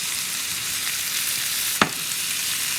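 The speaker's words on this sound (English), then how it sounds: "Look how they fry." Carrots fry in oil with brown sugar and molasses, giving a steady, bright sizzle throughout with one sharp pop or clack near the end.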